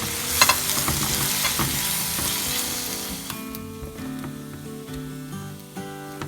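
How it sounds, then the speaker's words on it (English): Chopped bitter gourd frying and sizzling in a pan, with a steady crackling hiss and occasional stirring scrapes throughout, loud at first and easing slightly as it goes. "Now, add the chopped bitter gourd. And fry for 5 minutes."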